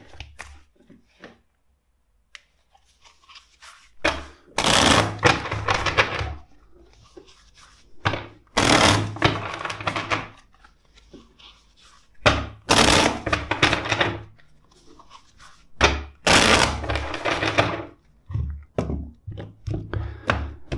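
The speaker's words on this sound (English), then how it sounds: "let's shuffle the deck four times for you." A tarot card deck is shuffled in several short, crisp bursts of riffling and tapping, separated by quiet gaps, close to the microphone.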